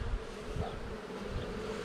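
Honeybees buzz in a faint, steady hum, a soft swarm drone with slight fluctuations and no voices, as bees are shaken into a hive frame.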